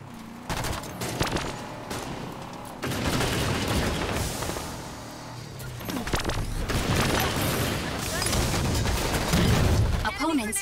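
Gunfire in Halo 5 big team battle multiplayer: bursts of rapid weapon fire and booming blasts come in clusters over steady game noise, with an announcer-style voice speaking intermittently.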